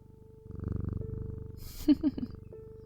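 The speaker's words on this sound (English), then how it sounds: "Let's stroke the cat again." A cat purrs steadily and close while being stroked, a low rhythmic rumble running throughout, with a brief voice and a few sharper sounds in between.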